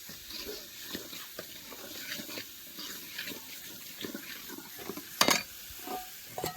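Tomatoes being added to a pan and frying for Punjabi-style shahi paneer, a steady sizzle with stirring scrapes and a sharp clatter near the end, close and moderately loud, no talking.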